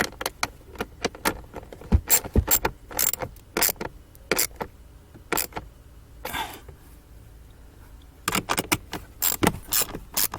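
Bolts being tightened on the AC expansion valve of a 2005 Honda Pilot, scattered metallic ratchet clicks and tool clanks in bursts, close and fairly loud, with quiet pauses between.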